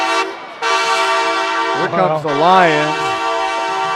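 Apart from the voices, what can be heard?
horn sounding at a high school football stadium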